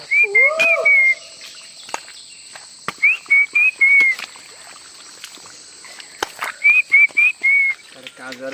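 Bird calls ring out in short repeated bursts of trilled notes over a steady high cricket drone, with a few sharp clicks between, in a coastal forest on Char Kukri Mukri, Bangladesh.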